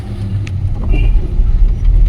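A car rumbles close by, its engine a loud low drone that swells as it speeds past, with a faint voice underneath.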